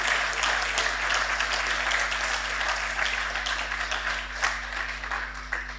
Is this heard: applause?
yes